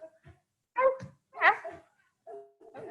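Children imitate a dog barking during a kids' yoga session, giving a few short voiced woofs and yips in separate bursts with quiet gaps between them.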